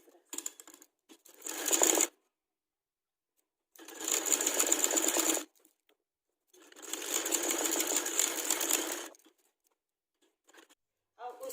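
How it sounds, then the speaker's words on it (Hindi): A sewing machine stitches the crotch seams of loose palazzo pants in three long runs of steady mechanical whirring, separated by quiet gaps, with brief handling sounds at the start and end. "अब हम इसकी स्टिचिंग करेंगे। सबसे पहले हम फ्रंट के आसन जोड़ेंगे।"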